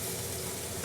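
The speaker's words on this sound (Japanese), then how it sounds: "この鉄板でガス火で焼く焼肉が私は一番好きです" Yakiniku meat sizzles on an iron griddle over a gas flame in a home kitchen, a dense, steady crackling hiss close by with no pauses.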